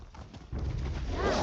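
Horse hooves clip-clopping in a video game set in Shadowfen, a brief run of soft rhythmic hoofbeats that grows louder and denser partway through, heard alone.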